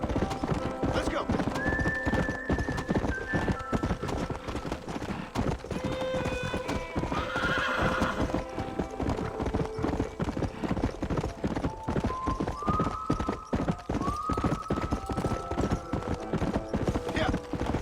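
A horse gallops in the Red Dead Redemption video game, with rapid rhythmic hoofbeats throughout, several whinnies and neighs, and a voice speaking briefly over the action.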